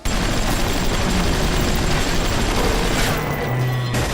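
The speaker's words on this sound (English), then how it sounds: "Get the armor piercing machine gun rounds." Armor-piercing machine gun rounds fire in BioShock, a dense, loud, continuous fusillade of rapid gunshots with booming impacts, sustained throughout without pause and with no talking.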